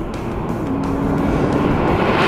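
A Porsche 911 Turbo S convertible accelerates, its engine a dense, steady roar that swells slightly as it pulls, heard close with no voices.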